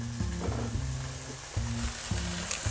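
Veal saltimbocca with sage fries in a pan, a close, continuous sizzle with soft stirring movements, and no voices.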